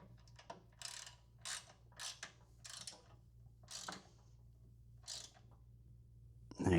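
A 5mm Allen key snugging down roof rack bolts after a light bar is centered, a quiet series of about nine short metallic ratcheting turns in separate bursts over a low background hum.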